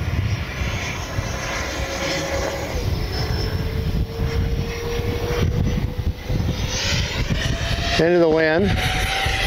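A Freewing MiG-29 RC jet with twin 80mm electric ducted fans makes a fast speed pass, its high fan whine rising in pitch, while someone talks briefly over it.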